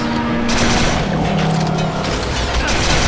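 Loud, continuous explosions and heavy weapon fire from auger grenades in the Resistance 3 campaign, a dense roaring barrage with no pause.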